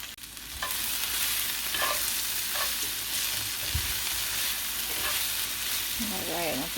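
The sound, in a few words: chicken fajita pieces searing in a pan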